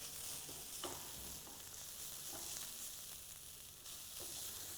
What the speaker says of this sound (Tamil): தேங்காய் பேஸ்ட்டும் தேங்காயும் நல்லா வதங்குது.